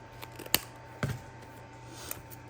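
Scissors snip off a small piece during a notebook planning session: three short, crisp cuts spaced apart over quiet room tone, with no talking.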